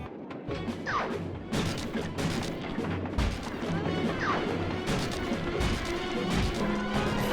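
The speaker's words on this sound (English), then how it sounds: "The X button drops bombs and the square button shoots forward." Bombs dropped from an RC chopper in Sly 2: Band of Thieves exploding in a string of sharp crashing impacts, several loud smashes spaced irregularly over a steady background hum of game sounds.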